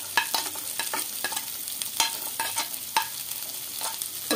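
Green beans frying in a pan with green chili and ginger for hara bhara kabab, stirred steadily with repeated scraping clicks over a continuous oily hiss, close and fairly quiet, no talking.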